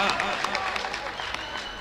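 Crowd applause at a speech during a fair in Mauranipur, a brief dense patter of clapping, moderately loud, with voices mixed underneath.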